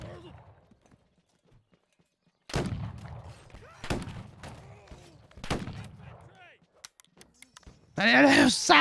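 Musket gunfire during a bayonet charge in the Civil War game Battle Cry of Freedom: a few sharp, loud isolated shots spaced a second or so apart, with horse clip-clop and scattered shouting voices around them.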